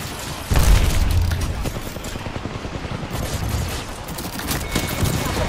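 Rapid gunfire in a shooter video game, with dense bursts of automatic shots and booms carrying on continuously and loudly throughout.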